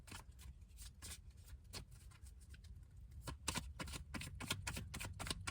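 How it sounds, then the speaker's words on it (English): Tarot cards are shuffled close by in quick, faint riffling bursts with soft papery flicks and taps, continuous throughout without talking. "Again, you would think I have never shuffled before."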